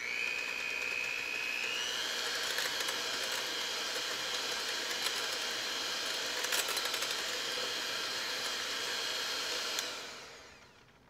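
A kitchen mixer whirs steadily while blending coconut maple creme with vanilla, a continuous motor whine with a brief pitch shift early on, then winding down and stopping near the end.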